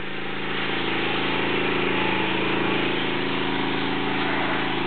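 A 1979 Ford L7000 dump truck idles with its Caterpillar 3208 V8 diesel, a steady, loud, close rumble with an even mechanical drone that holds unchanged throughout and has no talk over it.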